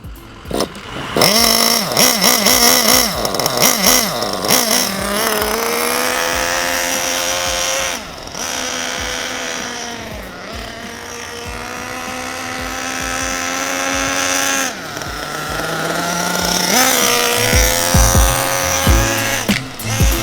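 A nitro model engine on the bench during break-in runs for a long stretch, a loud buzzing high-pitched drone with steady harmonics that shifts pitch slightly as it revs and settles.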